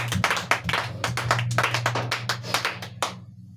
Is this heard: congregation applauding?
yes